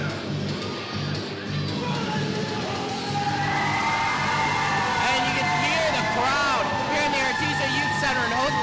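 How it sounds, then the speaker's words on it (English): A wrestling crowd at an arena in Houghton Lake cheers and whoops loudly for the Dean boys, a steady roar of shouting voices that swells in the second half, with a voice speaking over it. "cheering to the top of their lungs for the Dean boys"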